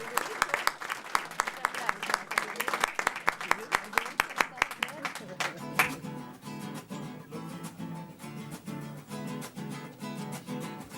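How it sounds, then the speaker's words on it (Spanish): An audience at a launch event claps for three guests, first with crisp, evenly spaced rhythmic claps, then music with a steady beat swells in and carries on under the fading clapping. "Un aplauso para los tres entonces."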